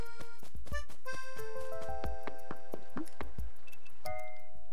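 Watering saplings in the Animal Crossing City Folk video game gives a rapid run of short watery squishes and drips, layered with bright chiming game tones, steady and fairly close with no talking.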